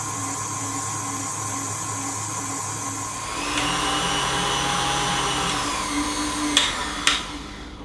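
Electric mixer whisking egg whites until foamy for a Japanese jiggly cotton cake, a steady motor whir that steps up in intensity partway through, with a couple of sharp knocks near the end.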